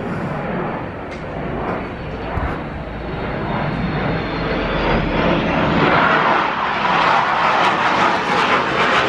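A jet aircraft flies past a house ahead of a Grand Prix air display, a broad loud roar that swells steadily over about nine seconds, with a faint rising whine as it passes.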